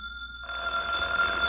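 An old telephone bell rings in a radio drama, a single bright, sustained trill that starts abruptly and carries on steadily, close and clear with no talking.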